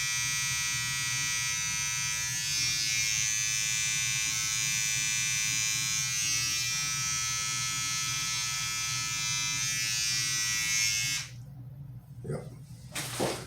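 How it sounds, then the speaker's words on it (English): A cheap electric razor buzzes steadily and loudly as it shaves a face, holding one even drone for about eleven seconds before cutting off, followed by a few faint handling noises. "It's a good shave for a cheap razor."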